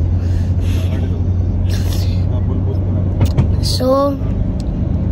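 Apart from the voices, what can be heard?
bus driving on road, Dubai to Saudi Arabia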